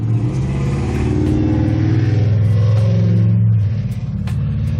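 A truck doing a burnout in front of a house gives a loud, close engine roar that holds steady with surging revs for several seconds, then dips slightly near the end, with no talking.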